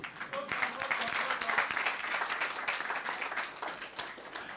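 Soft, somewhat distant clapping from an academic roundtable audience honours Professor John E. Collins on his eightieth birthday, a continuous patter of many hands at low volume.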